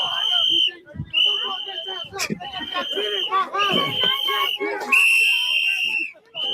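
Shrill whistles blown by protesters pierce a noisy crowd in repeated sustained blasts, loud and close, with voices talking and shouting throughout.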